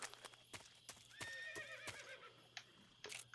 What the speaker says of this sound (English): I heard the horse.